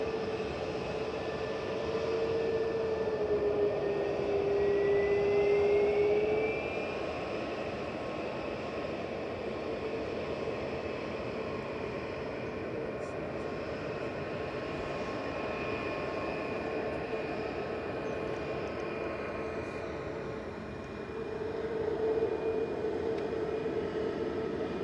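An Airbus A320neo jet airliner at Manchester Airport rumbles steadily in the distance, with engine whines drifting in pitch, swelling slightly early on and again near the end.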